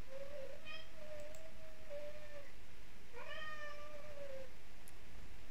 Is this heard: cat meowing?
yes